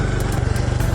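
A Honda Cross Cub 110 motorcycle engine runs steadily while riding over a rough road, with a loud, continuous low rumble and regular pulsing throughout. Bursts of broadband noise rise above it at intervals.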